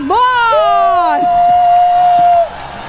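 An esports crowd at an MPL Malaysia match cheering and whooping for team Vamos, with a loud sustained voice yelling over the clamor, close and energetic, then fading at the end.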